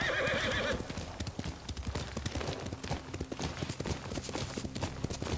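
Video game horse Kaze neighs at the start, then gallops with rapid, rhythmic hoofbeats that carry on steadily and close by, with no talking over them.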